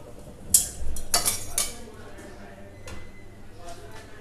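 Mutton keema balls are moved into another pan, giving several sharp metallic clinks of a spoon against cookware in quick succession, then quieter scraping, with a voice speaking over it.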